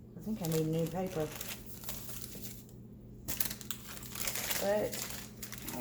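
Paper crinkling and crumpling as it is handled while making homemade tortillas, bursts of rustling close by, with someone talking over parts of it.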